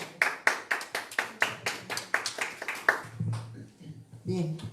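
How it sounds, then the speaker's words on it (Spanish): Audience members at a healthcare course on human care management clap in a steady, evenly spaced rhythm for an emergency and disaster specialist for about three seconds, then the clapping stops and a voice begins speaking. "Recibamos con fuertes aplausos, por favor."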